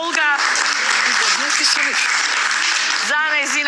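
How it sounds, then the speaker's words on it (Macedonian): An audience applauds Mrs Olga on the quiz game show Se ili Neshto, a steady, loud wash of clapping that runs throughout, with a voice talking over it at the start and again near the end. "Ајде еден аплауз за господја Олга."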